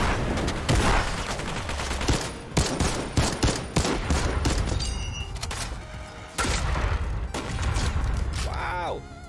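Fortnite weapons fire in bursts across a Chapter 3 match, with rapid gunshots, thuds and crashes in a loud, irregular sequence and short gaps between volleys.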